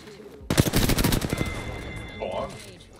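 Rapid automatic gunfire in a video game, a loud close burst of about a dozen shots in quick succession that trails off, followed by a brief voice.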